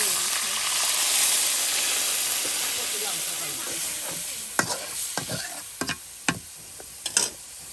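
Food is stir-fried in a pan over a home kitchen fire. A steady hissing sizzle fills the first half, then gives way to a series of distinct, fairly loud scrapes and clacks from the stirring utensil.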